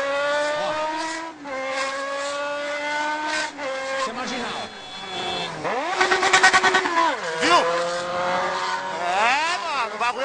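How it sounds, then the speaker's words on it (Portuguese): A motorcycle weaving at speed through São Paulo traffic, its engine close and loud, revving up and down in repeated rising and falling whines with gear shifts and a brief sharp burst midway. "a velocidade e a irresponsabilidade desse motoqueiro no trânsito de São Paulo"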